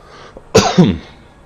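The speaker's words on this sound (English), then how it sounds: "sorry about my cough there." A single harsh cough, loud and close, breaks a quiet room in two quick bursts before silence returns.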